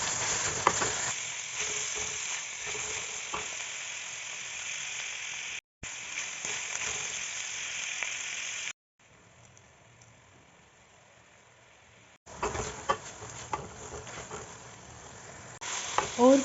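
Cabbage, onion and chopped potato sizzle steadily in about half a cup of cooking oil, with a dense, loud frying hiss that cuts out briefly twice and drops low for a few seconds before returning along with stirring.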